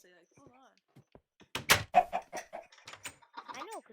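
Chickens cluck in a video game chicken farm, a few short fowl calls mixed with game sounds and quick clicks, while a person talks over them at close range.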